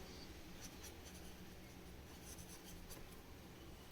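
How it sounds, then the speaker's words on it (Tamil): Pen or pencil writing notes by hand, jotting a shoulder measurement formula: faint, continuous scratchy strokes with small bursts, close and quiet over a soft room hiss. "ஸோ ஷார்ட்டாக எழுதுகிறேன்."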